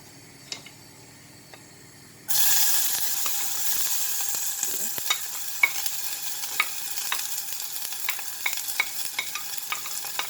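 After a quiet start, onions hit warm olive oil for a pizza sauce and burst into a loud, steady sizzle, with frequent small pops and light clicks of stirring throughout.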